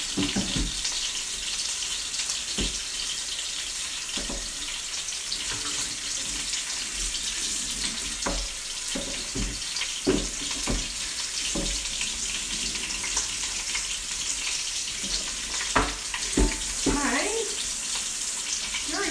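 Tap water runs steadily into a sink while a large chopping board is washed, a continuous hiss broken by scattered knocks and splashes, with a voice speaking intermittently over it.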